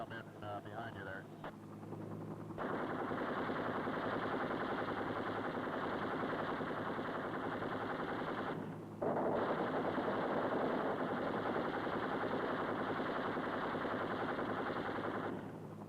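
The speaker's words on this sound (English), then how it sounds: "We received automatic weapons fire" Sustained automatic weapons fire from a river patrol boat opens after a short pause. It rattles loud and continuous for many seconds, stops briefly and resumes, while a boat engine drones underneath.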